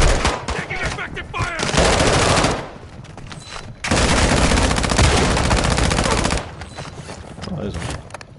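Rapid bursts of gunfire crackle in loud sustained volleys, separated by short quieter lulls with faint voices underneath.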